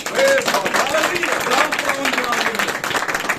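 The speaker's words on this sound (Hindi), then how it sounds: "मेरे और अपने खुदा के लिए आप ताली बजा सकते हैं।" Members of a church congregation clap during a Hindi-language sermon, irregular claps running under a voice speaking or singing over them.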